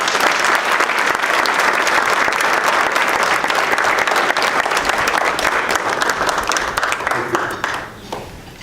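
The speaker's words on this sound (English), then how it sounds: "a round of applause for our ambassador" A large crowd applauds steadily and loudly, then the clapping thins out and fades near the end.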